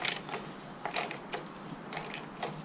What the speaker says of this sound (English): I'm just going to use a ratchet now